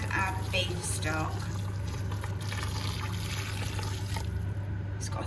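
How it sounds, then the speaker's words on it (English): Beef stock pours into a Ninja Foodi pot over the brisket and vegetables. A steady, close liquid pour and trickle runs for several seconds over a low background hum. "Stop the sear and saute now, and we can add our beef stock."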